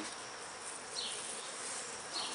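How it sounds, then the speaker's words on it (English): Robber bees buzzing inside an open beehive, a faint continuous insect drone with a couple of brief louder passes. "I've left this hive open and got a few robbers in there."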